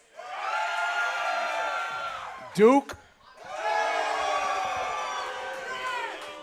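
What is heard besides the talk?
crowd cheering at live Final Four show in San Antonio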